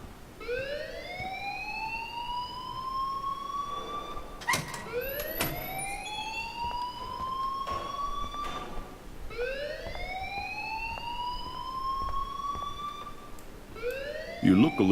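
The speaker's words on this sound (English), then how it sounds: "please turn off that alarm since that's your job" Alarm blaring in the Life Is Strange video game: a wailing siren tone that sweeps upward and repeats about every four seconds, loud and continuous, with scattered clicks and knocks in the background.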